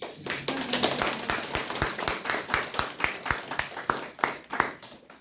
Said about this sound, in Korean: 우리 그냥 박수 한번.